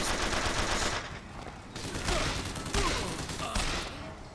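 Gunshots in Bioshock Infinite ring out in repeated loud bursts over dense game noise, with a few sharp cracks spaced across the stretch and no clear talk.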